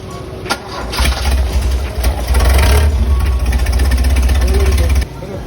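A car engine cranks and fires up after a newly installed starting and charging system, settling into a loud, steady running rumble for several seconds before cutting back near the end, with voices talking over it.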